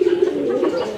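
A single pigeon gives a soft, throaty coo, close and clear, lasting about a second.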